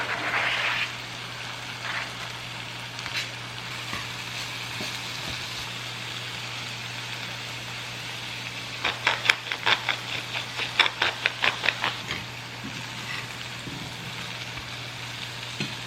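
Chicken and vegetables sizzle steadily in a pan, a constant frying hiss with a bright burst of spatter near the start and a cluster of sharp clattering stir or scrape sounds toward the end.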